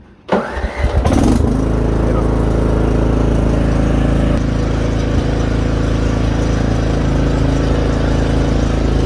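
A Craftsman R1000 riding mower engine cranks briefly, catches and settles into a loud, steady, close idle that holds without a break.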